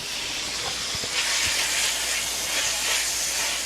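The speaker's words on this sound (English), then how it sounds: "Oh, you hear the sizzle?" Steady sizzling hiss of chicken frying in a skillet, continuous and fairly loud, with a few soft low knocks early on and no talking.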